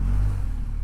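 An adventure motorcycle engine rumbles loud and close, low and steady, as the bike rides off-road through water on a slippery trail in India.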